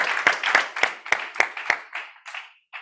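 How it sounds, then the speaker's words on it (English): Audience applause at a live challenge event, steady rhythmic hand claps at moderate distance that thin out and fade over a few seconds, with no talk. "Give it up one more time, crowd, for Anthony."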